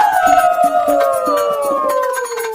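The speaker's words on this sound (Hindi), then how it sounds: "फिर उन लोमड़ियों के झुंड ने नए राजा का अभिवादन करने के लिए एक साथ आवाज लगाना शुरू किया" A pack of foxes in an animated Panchatantra folk tale howl together, several voices layered in long, loud, downward-sliding wails that slowly fade toward the end.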